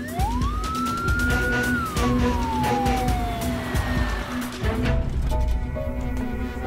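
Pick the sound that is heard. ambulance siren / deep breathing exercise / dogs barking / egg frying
ambulance siren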